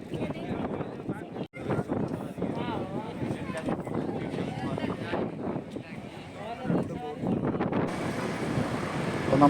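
Strong sea wind blows at Kanyakumari, buffeting the microphone in a continuous roar, mixed with surf and boat noise, while a person talks over it.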